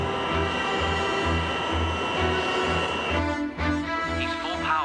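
A loud, steady aircraft engine roar at full takeoff power, throbbing and dense throughout, with a shift in pitch and texture near the end as the roll begins.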